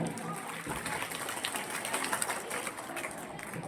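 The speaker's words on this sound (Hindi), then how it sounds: "जोरदार तालियां" Applause from a school audience after a patriotic Republic Day drama performance, a sustained, somewhat distant crowd of clapping with a roomy, noisy background.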